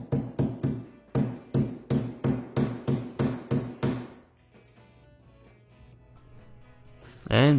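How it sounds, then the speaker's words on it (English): T-nuts being hammered into plywood for mounting casters: about a dozen sharp, evenly spaced hammer strikes, close and loud, then a quiet stretch with a faint hum before a brief noise at the end. "Now I'm going to insert T-nuts to the inside of the ply"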